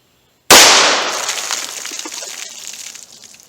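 Single loud gunshot from a .38 Special firing Hornady Critical Defense 110 grain +P into particle board, a sharp sudden crack after silence with a decaying ringing tail.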